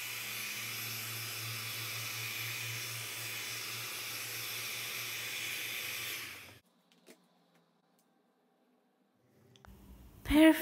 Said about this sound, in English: That's why I use this heat gun.